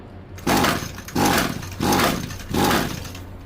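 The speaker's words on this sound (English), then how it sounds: "Now I'm not holding the throttle. I'm just basically pulling it till it starts." Four rhythmic pull-start strokes on an Echo SRM-2320T string trimmer engine, each a rising rattling whirr of the recoil starter turning the engine over without it catching, close and loud.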